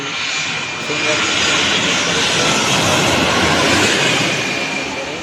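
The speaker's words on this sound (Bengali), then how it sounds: "বিমানটি ল্যান্ড করছে" Loud, continuous roar of a jet airliner's engines as it lands at an airport, swelling slightly and holding steady as the aircraft passes close overhead.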